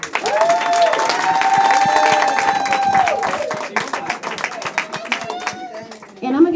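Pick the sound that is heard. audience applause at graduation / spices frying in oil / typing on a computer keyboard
audience applause at graduation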